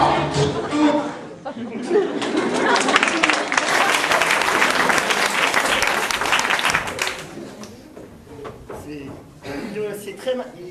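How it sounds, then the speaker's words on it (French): Theatre audience in a small venue clapping for a performer, steady applause swelling for several seconds with chatter and light laughter mixed in, then tapering off as talk resumes. "On l'applaudit."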